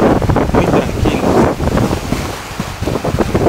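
Loud ocean surf and strong wind buffeting the microphone at the beach in Playa del Carmen, a rough continuous roar with surging swells, close and dominant.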